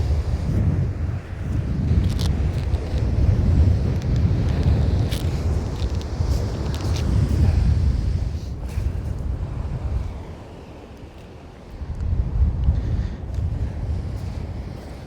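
Strong wind buffeting the microphone on the Holderness coast at Easington during cod fishing; a continuous loud roar with gusts rising and falling, easing briefly before surging again, alone without talk.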